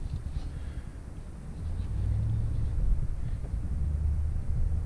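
A 2019 Ram Rebel pickup crawls through beach sand in four-wheel-drive low, a deep, close engine rumble that swells slightly partway through, with no talking.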